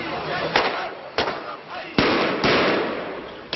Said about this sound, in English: The fireworks were to tell people it was time for the evening protest.